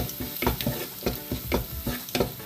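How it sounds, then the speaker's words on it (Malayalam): A spoon stirs curry in a pan after salt is added, making rhythmic scraping strokes about twice a second over a soft background sizzle, close and fairly quiet, with no talking. "ഒരു കുറച്ച് ഉപ്പ് ഇട്ട് കൊടുക്കുക എന്നിട്ട് ഇത് നന്നായിട്ടൊന്ന് മിക്സ് ചെയ്യാം"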